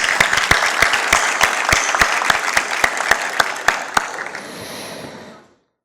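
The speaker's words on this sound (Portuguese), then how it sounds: "Vamos receber com aplausos" Event audience applauding to welcome a sales director to the stage, a brisk burst of many hands with sharp close claps over a dense wash, thinning out and fading to silence near the end.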